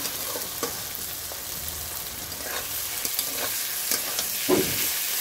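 Vegetables and tomatoes frying in a pan in a home kitchen, a steady soft sizzle with occasional stirring scrapes and clinks, heard alone and fairly quiet.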